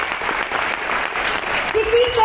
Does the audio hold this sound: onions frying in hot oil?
no